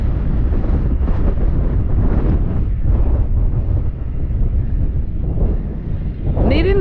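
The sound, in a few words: wind blowing at castle ruins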